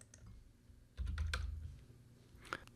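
A computer keyboard is typed on while entering values into solar system design software, giving a short run of quiet, close clicks followed by a few isolated taps.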